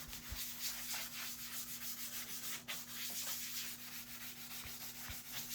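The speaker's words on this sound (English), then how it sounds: "And then I used my sander to do the sides and the flat areas." Steady broadband scratchy whir of an electric sander on the sides and flat areas of a cedar wood blanket chest, continuous with a low motor hum underneath and no talking.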